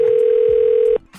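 A steady telephone dial tone hums alone for about a second before cutting off abruptly, with a faint click and a brief bit of background noise after it, ahead of a prank phone call.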